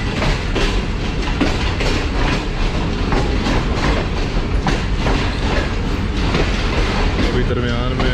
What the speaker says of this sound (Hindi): पास तो हो रही है ट्रेन हमारी वजीराबाद जंक्शन से।